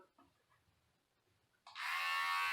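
A Philips Norelco Series 7000 vacuum beard trimmer, fitted with a small trimmer head, switches on after a quiet pause and runs with a steady, loud, close electric buzz.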